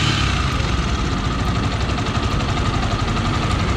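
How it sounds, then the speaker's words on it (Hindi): Yamaha R15 motorcycle engine running with a cracked, rough sound from an engine fault, a loud, close, continuous drone with fast uneven pulsing and no talk. "तो इंजन से एक फटा हुआ साउंड निकल रहा है"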